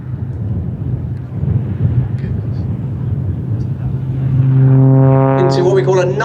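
An aerobatic plane at the Sywell Airshow 2024 pulls up into the vertical with a distant, rumbling engine drone that swells and rises in pitch toward the end, heard over wind and crowd noise outdoors.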